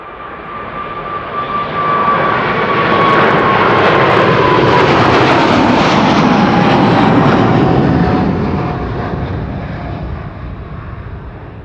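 An airliner bound for Shanghai roars past at Amsterdam Schiphol, its jet engines swelling to a loud broadband rush with a steady whine, then slowly fading as it moves away.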